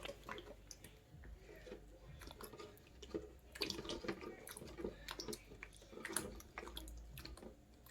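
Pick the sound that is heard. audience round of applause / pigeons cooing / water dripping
water dripping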